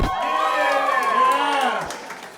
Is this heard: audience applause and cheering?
yes